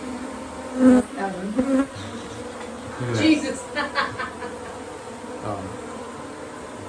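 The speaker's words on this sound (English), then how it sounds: "There's still about 7 or 8 bees flying around." Several angry bees inside a house buzz around up close, their drones rising and fading as they fly past, while a person mutters once.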